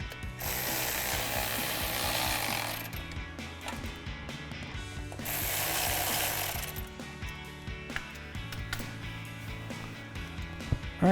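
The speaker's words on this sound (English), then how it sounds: "we can now mount our fog light with our 3 T20 screws that we took our stock one out with." A ratchet drives three T20 screws to mount a fog light on a Jeep Wrangler JL, two long runs of rapid close clicking separated by quieter handling noise, with faint clicks and knocks toward the end.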